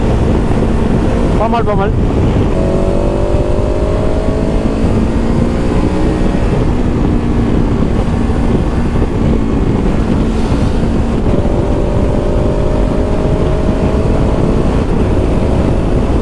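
A 2023 KTM 1290 Super Adventure S motorcycle accelerating on the road, its engine tone rising in several steps through gear changes under heavy, constant wind roar, with a rider speaking briefly.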